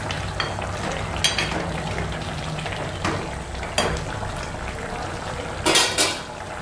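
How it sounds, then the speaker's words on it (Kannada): Green chillies frying in a pan for Andhra-style chilli chicken, a steady crackling sizzle with a few sharp scrapes and stirring clatters of utensil against the pan, close and even throughout. "ಹಾಕ್ಬಿಟ್ಟು 1-2 ನಿಮಿಷ ಫ್ರೈ ಮಾಡಿ."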